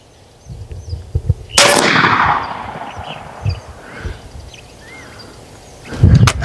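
A single sharp crack from an AEA Megalodon .58 caliber air rifle, loud and close, followed by a fading outdoor tail with faint birdsong and a thump near the end.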